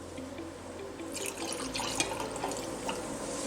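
Water being poured into ethanol to mix a half-and-half solution in a lab, a steady trickling pour, fairly quiet and close, with no talk.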